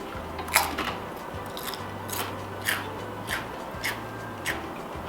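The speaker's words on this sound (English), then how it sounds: "Do you hear that crunch?" Oil-free air-fried food from a Black+Decker Purifry air fryer crunches as it is bitten, a series of about seven sharp, close crackles at irregular intervals over a low steady hum.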